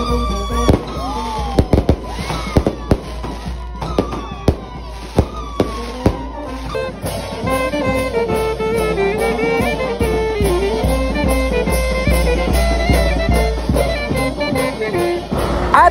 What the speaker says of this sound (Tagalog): hinihintay na lang nga namin dito ang fireworks